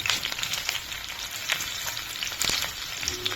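Chopped onion hits hot oil in a home kitchen pan and sizzles, a bright, crackling fry with scattered pops throughout, heard close and alone.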